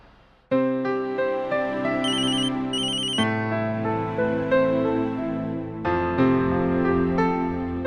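A phone ringtone for an incoming call plays loud and close: a bright, sustained melodic electronic tune with repeating chord phrases and a short high chiming figure, with no voices over it.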